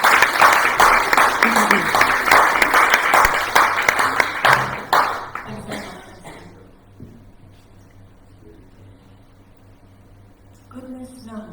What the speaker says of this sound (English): A big cheer for Nina Telegina.